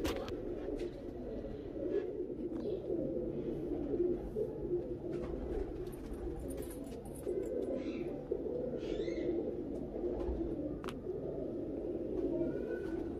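Teddy pigeons coo steadily in a loft, a dense low murmur of overlapping calls from several birds, with a few brighter chirps and clicks from smaller birds scattered above.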